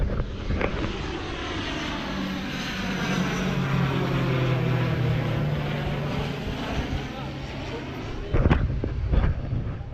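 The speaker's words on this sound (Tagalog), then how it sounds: "Dumaan ang kanyang aeroplano." A propeller airplane passes overhead, its engine drone swelling and then fading as it crosses, with a few sharp knocks near the end.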